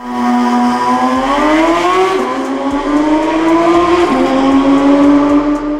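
A Porsche 992 GT3 RS high-revving flat-six engine revs high and climbs steadily in pitch, loud and close, with a brief dip before rising again.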